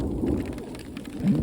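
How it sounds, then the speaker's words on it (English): Hail and rain pelting down steadily during a storm on a Colorado Trail hike, a dense continuous patter with low rumbling underneath, fairly close, no voices. "So it was hailing like crazy."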